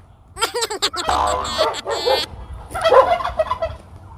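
A turkey gobbles in rapid rattling bursts, loud and close, with a few more gobbles answering near the end.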